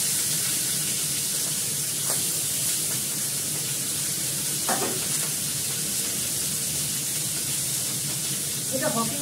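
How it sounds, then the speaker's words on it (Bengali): Tangra fish fry in a large Hawkins frying pan, a continuous loud sizzle with occasional crackles and stirring sounds close up. "ট্যাংরা মাছটা ভাজবে।"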